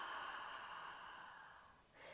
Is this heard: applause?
no